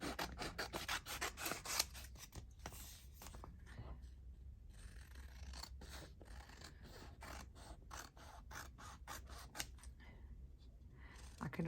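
Scissors trim paper for a handmade Christmas journal, giving repeated close snips and rubbing, scraping paper handling over a steady low background rumble.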